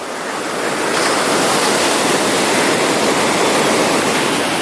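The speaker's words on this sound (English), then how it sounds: "you see those freaking waves? They're huge." Huge ocean waves at a Phuket beach crash and roar continuously, a loud broadband surf wash filling the air with no voices.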